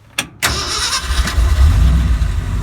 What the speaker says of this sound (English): Turn the key and she's running.